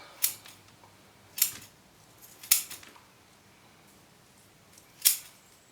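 Pruning shears trimming the roots of a copper beech during repotting, four sharp crisp snips spaced about a second apart, close and distinct against a quiet background.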